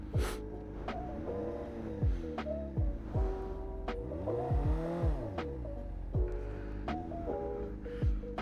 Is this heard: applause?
no